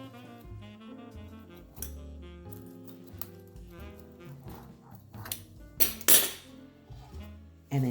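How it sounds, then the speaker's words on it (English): A knife cuts tortilla cheesy garlic bread topped with chopped parsley into strips, giving a series of close, crisp crunches and scrapes on a board, with sharper louder cuts near the end. "let's go ahead and slice this into strips"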